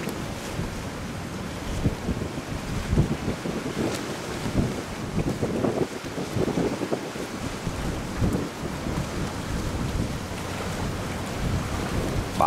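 A storm at sea heard from aboard a small fishing boat: heavy rain and wind roar constantly, with wind buffeting the microphone and low rumbles of thunder and waves, all close and loud.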